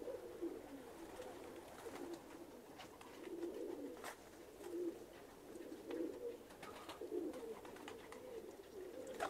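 Pigeons of assorted breeds cooing softly and repeatedly nearby, overlapping low rolling coos with no talking.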